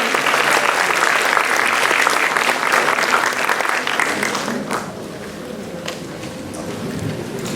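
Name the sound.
audience applause for the director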